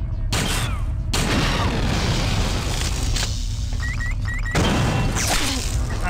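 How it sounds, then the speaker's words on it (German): Gunfire in System Shock 2 booms and crashes densely over a constant loud game din, with mechanical clanks mixed in and no talk over it. "Ich schieße mit falscher Munition."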